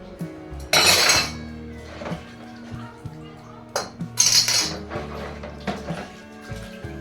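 Iron pots and metal utensils clatter and clink while being washed, with sharp scattered knocks and scraping bursts up close, set against a steady low hum.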